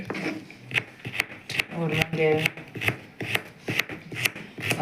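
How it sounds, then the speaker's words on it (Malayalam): A knife chops a carrot into small pieces on a board, making quick, close, rhythmic taps. A voice briefly speaks in the middle. "നമ്മൾ ക്യാരറ്റ് കട്ട് ചെയ്ത് കൊടുക്കുകയാണ്"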